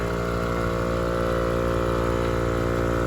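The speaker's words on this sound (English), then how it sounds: "We are airing up with our Vi-Air air compressor hooked to our battery." A Vi-Air portable air compressor, wired to a Jeep battery, runs close and loud with a steady droning motor hum and a fast pulsing rattle. The sound stays constant with no talking.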